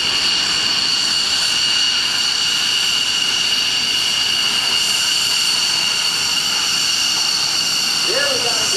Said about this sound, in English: It's also one loud airplane from the rear.